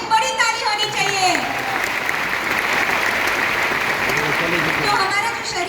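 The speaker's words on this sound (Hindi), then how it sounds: "kombucha के लिए एक बड़ी ताली होनी चाहिए।" An audience at a health product talk claps for kombucha, a broad continuous wash of applause with a voice speaking over it, fairly loud and steady throughout.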